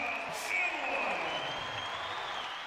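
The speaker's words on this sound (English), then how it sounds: "Listen to this crowd here." A loud, hyped basketball arena crowd at a college game cheers and roars steadily throughout, a dense sustained wash of noise with a brief surge near the start.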